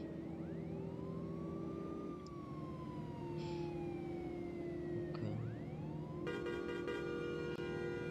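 An ambulance siren wails in Bus Simulator Indonesia, rising and falling continuously over a steady engine drone, loud and alone throughout.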